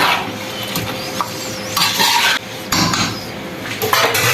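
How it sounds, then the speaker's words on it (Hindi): Chicken karahi is stirred in a pot, producing continuous close scraping and clattering of a spoon against metal with a sizzling wash underneath, steady and fairly loud throughout. "इसको हमने फिर एक बार हिला लेना है, मिक्स कर लेना है।"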